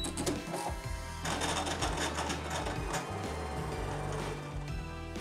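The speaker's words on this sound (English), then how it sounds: "While my ScanNCut machine is working" A Brother ScanNCut cutting machine working through cardstock for layered Christmas cards, a continuous close motorized whir with clicking, stepping movements throughout, no voices.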